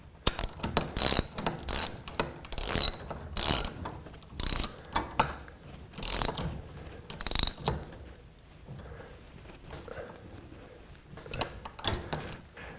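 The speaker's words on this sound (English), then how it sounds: "I'm going to reattach the pulleys, and then we're going to have to start putting tension on this guy." Garage door torsion spring pulleys being reattached, a run of close, sharp mechanical clicks and ratcheting clanks in irregular bursts that thin out toward the end, with no talk.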